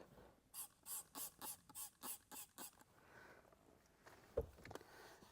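ENDO car interior cleaner is sprayed from a trigger bottle in about eight quick, even hissing bursts, followed by softer wiping and handling noises and a sharp knock.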